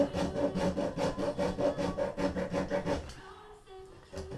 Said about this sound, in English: we're going to take our hacksaw, but this time it's a single blade hacksaw, and we're going to cut down until we hit that nail